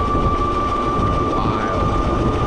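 Ariel Rider X Class electric scooter running at full throttle: a loud, steady high motor whine over heavy rumbling wind and road noise, constant throughout.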